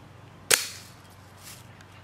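A single sharp rifle shot cracks out at a backyard shooting range, loud and close, followed by a short fading echo and then quiet.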